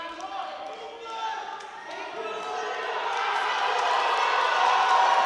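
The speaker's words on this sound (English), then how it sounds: "Listen to the crowd." At a European powerlifting championship, a crowd cheers and shouts, building from scattered calls into louder, sustained roaring and applause.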